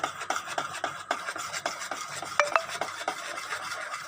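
Pitha batter of flour and sugar syrup being beaten in a bowl, a rhythmic series of wet scraping, slapping strokes at about two per second, close and moderately quiet, with no talk.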